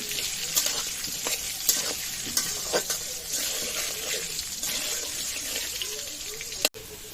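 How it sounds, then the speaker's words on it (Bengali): Potatoes frying in a pan, a continuous bright sizzle with occasional stirring clicks and scrapes, fairly close and steady throughout. "এবার আলুগুলা লাল লাল করে খুব সুন্দর করে ভেজে নেব"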